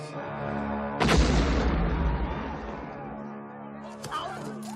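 A film explosion sounds as a sudden loud boom about a second in, then a long, rough rumble that slowly fades, with a sharper burst near the end.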